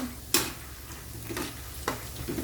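Chopped garlic frying in a pan over low heat, a soft steady sizzle broken by three sharp scraping clicks as it is stirred.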